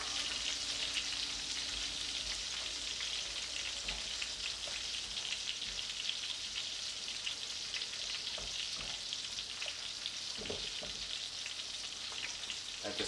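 Food sizzles in a frying pan on a kitchen stove, a continuous, even crackle at moderate volume with a few soft stirring knocks and no talking.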